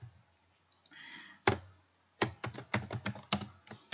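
Answer options are typed into Google Forms on a computer keyboard: a short burst of keystrokes, a pause, then a quick run of crisp, close clicks with no voice over them.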